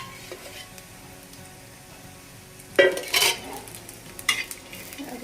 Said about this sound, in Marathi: खोबरं शेंगदाण्याला पण आपल्याला मस्त असं फ्राय करून घ्यायचं चांगलं.